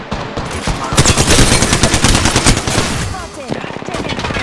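Sustained automatic gunfire in the Apex Legends shooter, loud and close, with rapid continuous shots that ease off briefly toward the end.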